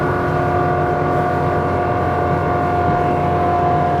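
A superRIB 27 rigid inflatable boat runs at 45 knots, its engine giving a loud, steady, unbroken drone with a sustained high whine throughout.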